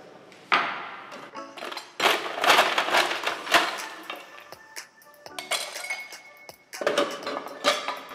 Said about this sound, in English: give it a nice shake so it becomes nice and frothy